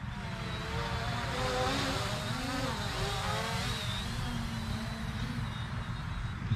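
Snaptain SP700 brushless GPS camera drone flying nearby, a steady buzzing whine of its brushless motors with shifting pitch as it maneuvers, continuous and fairly loud throughout.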